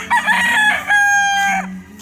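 A young white Kelso cross rooster stag gives one long, loud, close crow that rises and holds before tailing off, with faint clucking and farmyard noise beneath.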